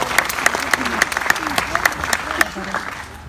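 A warm round of applause rises from the audience as a volunteer named Pamela is brought onstage at a magic show at the Opry, steady clapping with sharp peaks lasting about three seconds before tapering off.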